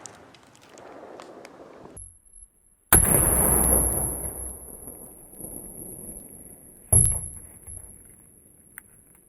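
Two sharp, loud rifle reports from 5.56 NATO green tip rounds fired at a polymer cover target about 15 yards away, each a sudden blast with a decaying tail, separated by a few seconds over quiet outdoor ambience.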